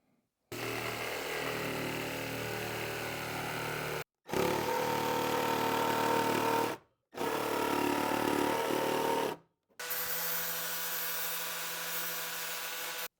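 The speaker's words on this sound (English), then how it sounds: "I'm going to cut the mud flaps out of that ABS plastic" ABS plastic sheet being cut for mud flaps, with four sustained bursts of harsh, grinding cutting noise separated by short pauses.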